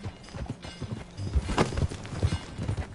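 Horse hooves clip-clop at a steady walking rhythm in the video game Red Dead Redemption 2, close and clear over low ambient game sound, with no voices.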